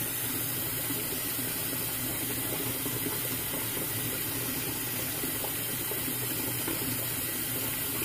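Tap water runs steadily in a sink while hair relaxer is rinsed out of hair, a continuous even rush with no pauses and no voices.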